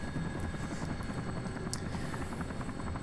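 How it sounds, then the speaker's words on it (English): Steady rotor drone of a helicopter in the video game Urban Chaos Riot Response, a continuous low thrum with faint buzzing overtones, holding even and moderately quiet throughout. "the helicopter is turning to the right"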